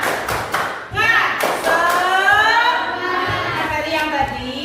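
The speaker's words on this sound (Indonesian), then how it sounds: "Ulang, tepuk semangat." A group claps in rhythm at a classroom coaching session for the tepuk semangat chant: a quick run of sharp claps opens, then voices chant together loudly and steadily over scattered taps and thuds.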